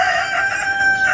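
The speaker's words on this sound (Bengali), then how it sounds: "এই দেখেন মুরগিগুলো সকালবেলা ডিম পাড়তে বসছে" Chickens cluck and crow steadily at close range in the morning on a small farm where ducks and hens are being let out after rain, with no gaps and no talking.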